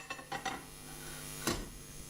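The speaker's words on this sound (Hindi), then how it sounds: "तो ये हम अपना जो है बर्तन ये हम माइक्रोवेव में रख रहे हैं" A pot of soil set down inside a microwave, giving a few close clinks and scrapes of the container against the microwave interior, then a single louder knock, under a steady hum.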